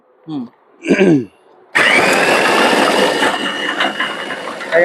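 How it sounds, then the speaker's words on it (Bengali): Food processor whirring loudly as it peels dried garlic cloves, starting abruptly after a couple of short spoken phrases and then running as a steady, harsh motor drone with rattling cloves tumbling inside. "এটাকে আমরা এখানে বসাই দিলাম এই যে এখন রসুনটা ছিলবো"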